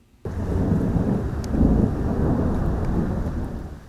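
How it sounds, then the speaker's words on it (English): Thunder from an overnight storm starts abruptly and rolls on as a loud, sustained low rumble, with rain in the background. "We heard lots of thunder just like that throughout last night"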